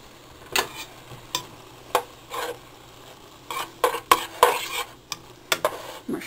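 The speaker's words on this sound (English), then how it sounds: "I'm going to stir it in" Taco meat stirred in a pan, with irregular clinks and scrapes of a utensil against metal over a faint sizzle, some strokes louder and clustered near the end, close by with no voices.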